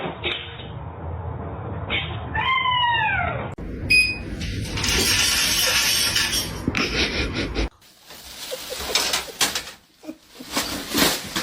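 A kitten gives a couple of rising and falling meows amid a cluttered household backdrop, with scraping and clattering noises shifting throughout.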